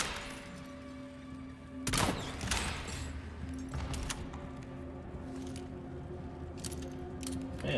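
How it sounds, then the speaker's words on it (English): Gunfire in the video game Resident Evil 4 Remake, a sharp loud shot followed by several more spaced bursts and impacts over a steady low game hum, with no talk. "Now I'm gonna shoot him in the dick."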